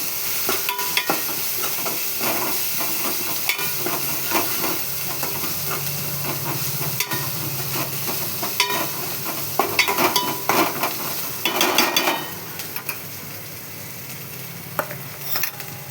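Ginger and turmeric frying in a pan give a steady close sizzle and hiss, with stirring scrapes and clatters that get busier toward the end.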